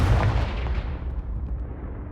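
Confringo explosive spell cast in the Hogwarts Legacy video game, a loud blast at the start whose booming tail slowly dies away.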